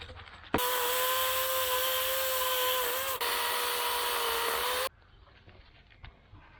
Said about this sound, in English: I would use my chainsaw to cut the branches off and make sure it is a good fit